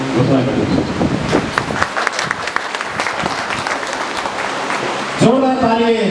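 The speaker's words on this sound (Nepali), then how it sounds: "जोडा ताली सम्मान गर्नुहोस्" Applause from an audience at a second anniversary ceremony for a weekly newspaper, sustained clapping that runs steadily for several seconds under the hall's ambience before a voice begins speaking at the end.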